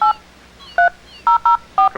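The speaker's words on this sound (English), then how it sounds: "We're calling Nate and Dan back to see if they're still conscious" A telephone being dialed to call people back, five loud, distinct touch-tone beeps at uneven intervals, each short and clean against a quiet background with no speech.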